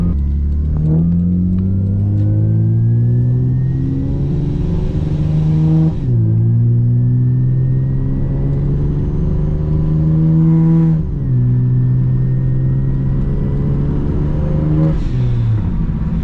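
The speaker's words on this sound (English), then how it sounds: "Honestly, my favorite thing ever, just hearing the blow-off valve" A supercharged Acura TL Type-S pulls hard through several gears, each loud rising engine wail and supercharger whine cut by a shift, with blow-off valve whooshes between pulls, heard from inside the car with no talk.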